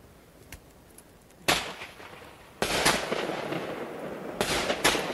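New Year fireworks going off, a sharp pop followed by bursts of crackling explosions that layer into a sustained loud rattle, heard at moderate distance outdoors.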